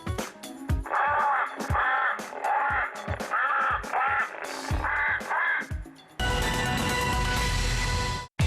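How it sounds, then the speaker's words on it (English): Recorded bird distress calls blare from a bioacoustic scaring device on an airfield bird control vehicle, a run of loud harsh crow-like caws in quick bursts, ending in a stretch of broadband noise. "We have a bioacoustic device mounted on our bird control vehicle that simulates the sound of birds being in trouble."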